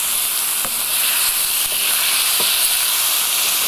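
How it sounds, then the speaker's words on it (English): Steady, close sizzling of chicken strips frying in a hot pan, a continuous crackling hiss with faint occasional clinks. "Hear that sizzle? That's a very good thing."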